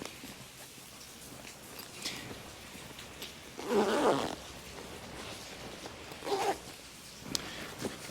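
Zipper on a Draxdog camp chair carry bag being pulled, two rasping close zips separated by a few seconds of soft fabric rustling and handling noise.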